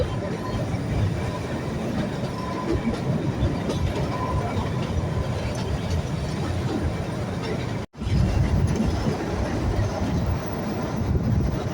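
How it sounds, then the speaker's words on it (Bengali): A train travelling near Shimla, with steady close rolling rumble and rhythmic clickety-clack of wheels on rails, continuous and loud for the whole stretch. "ট্রেনটা কীভাবে যাচ্ছে দেখি"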